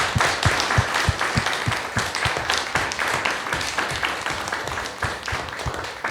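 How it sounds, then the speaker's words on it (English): Audience applause for four students at an academic ideas forum, a steady round of clapping from a modest crowd with individual claps distinct and close, sustained throughout without talk. "shall we give a big round of applause to the 4 students?"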